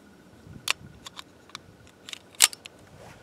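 A McCormick RPM magazine clicks into a Kimber 1911 pistol: a series of small metallic clicks and taps, faint and close, ending with a sharper seating click.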